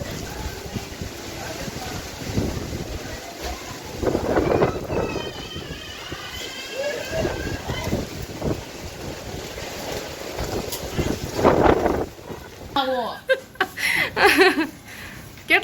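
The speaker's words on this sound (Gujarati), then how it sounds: "ફૂલે ફૂલ વાવાઝોડું શરૂ થઈ ગયું છે અહીંયા." A strong windstorm whipping up dust blows steadily, a rough rushing roar buffeting the microphone throughout, with people talking and laughing over it near the end.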